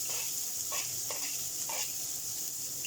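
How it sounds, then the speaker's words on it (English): Onion and garlic hitting hot oil in a pan, a quiet steady sizzle with a few soft stirring scrapes, heard up close with no talking. "in that same oil, I'm going to add the onion and garlic"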